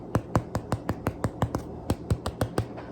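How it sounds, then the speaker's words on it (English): About a dozen sharp, hollow knocks on a baked loaf of white bread land in quick, slightly uneven succession, close and crisp with no voices. "That's that hollow sound that you want to look for."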